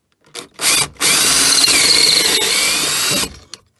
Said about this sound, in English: Let's stick that on here and drill down